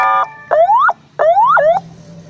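A CJB 150E electronic siren set to its lowest volume gives two rising wails, each ending in a quick downward break, with short pauses between them. It sounds close and clear, with no other sound around it.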